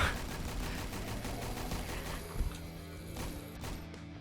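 Gunfire aimed at a monster in the Roblox game Last Run: dense, continuous rapid shots form a loud, unbroken barrage throughout, with a heavier crack near the middle.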